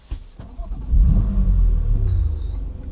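A BMW M2 Competition engine starts up nearby: a short click, then the crank catches and flares into a loud, deep rumble that settles into a steady, throaty idle.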